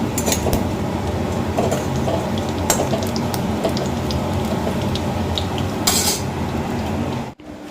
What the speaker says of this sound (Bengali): ডিমের বড়া ভাজা হচ্ছে।